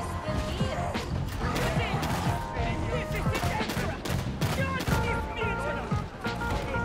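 Video game gunfire in a boss fight: dense, rapid bursts of shots and impacts crackling throughout, loud and busy with layered game effects.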